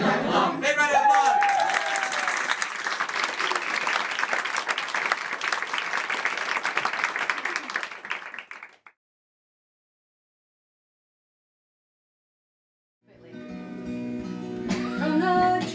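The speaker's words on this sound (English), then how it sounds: "Big round of applause." An audience at a community celebration applauds loudly for about eight seconds, then falls silent before music begins.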